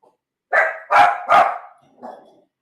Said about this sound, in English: Dogs are freaking out for some reason.